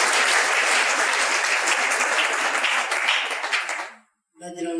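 A church congregation applauds during a worship service. The clapping is loud and dense, then cuts off abruptly and is followed by a brief snatch of speech.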